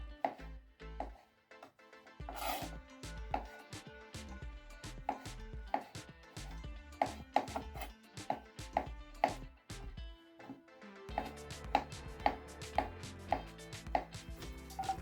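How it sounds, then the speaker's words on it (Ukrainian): A knife chops steadily through button mushrooms on a cutting board, rapid knocks in bursts with short pauses, close and fairly loud, no voices. "Для початку мені потрібні печериці 400 грам. Я їх нарізаю ось таким чином."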